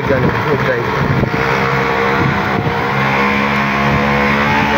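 Engine hum of a car driving to the market in Lipa, Batangas, steady and close with a rumble and faint road noise throughout.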